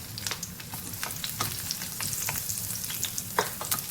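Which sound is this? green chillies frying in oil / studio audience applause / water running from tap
green chillies frying in oil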